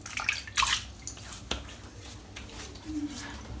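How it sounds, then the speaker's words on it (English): Water splashes as hands cup it to wet the face before a wet shave with a razor, a few close splashes and drips in a quiet bathroom. "so what I'm going to do is I'm going to wet the face."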